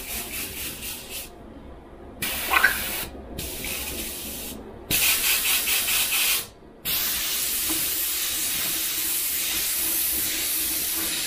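An airbrush spraying thinned paint, a steady hissing rush of air and atomised paint in several long bursts broken by short pauses, close and loud, ending in one longer continuous spray.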